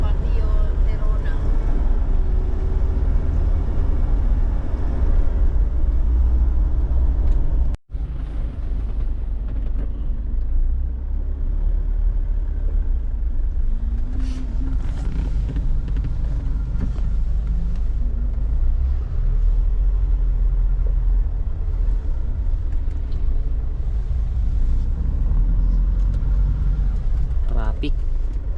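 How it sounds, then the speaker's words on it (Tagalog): Steady road traffic from inside a moving car in the Philippines, a constant low engine and road rumble with a brief dropout near eight seconds; people talk quietly in the background. "Traffic."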